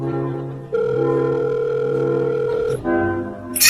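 Phone call ringing tone heard as a loud, steady electronic tone sustained for about two seconds, then a brief break and a second tone, with a click at the end.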